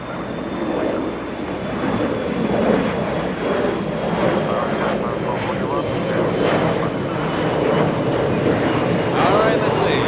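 Jet airliner taking off from runway 25 right at Los Angeles International Airport, a loud sustained engine roar with a thin whine, heard under air traffic control radio chatter.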